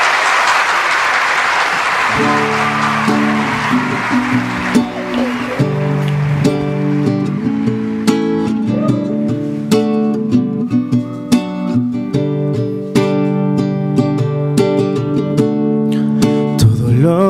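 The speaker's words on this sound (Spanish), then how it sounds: "Recibamos con un fuerte aplauso" An audience at a live comedy news show bursts into loud applause for about two seconds, then the clapping fades as music with a steady beat and melody takes over and carries on to the end.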